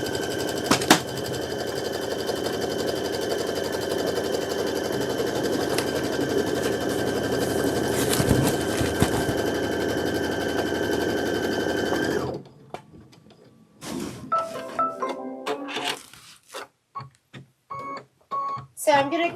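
An embroidery machine hums and rattles steadily as it stitches a quilt placement line, a constant mechanical whir that stops abruptly midway, followed by scattered handling sounds and quiet rustling.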